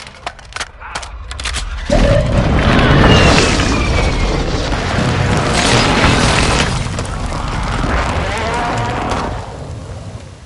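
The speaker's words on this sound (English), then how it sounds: "Hostile airstrike incoming." Airstrike explosions in a video game, heavy booming blasts that roll into a long, loud rumble lasting several seconds after a few scattered earlier thuds.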